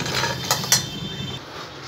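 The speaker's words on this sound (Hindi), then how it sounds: "इस तरीके से रोस्ट कर लेंगे।" Peanuts roasting with curry leaves in a pan for a tempered chutney, heard as soft scraping and rattling with a couple of sharp metallic clinks from a spoon against the pan, fairly quiet and close.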